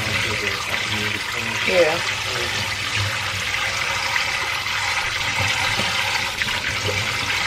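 Tap water runs steadily into a kitchen sink as oxtails are rinsed, a constant close hiss and splash with faint handling and a couple of brief spoken words.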